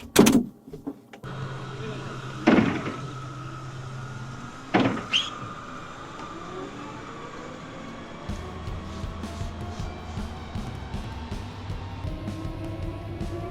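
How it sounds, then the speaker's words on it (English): The NIO EP9 electric race car gives off mechanical clunks and rising whines, with a few sharp knocks early on followed by a steady electric whine that builds and wavers at moderate level. "the EP9 was full of whines and clunks that made it feel alive, that made it feel like a real race car"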